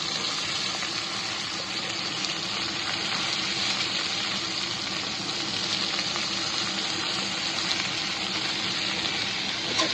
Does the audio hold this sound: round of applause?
no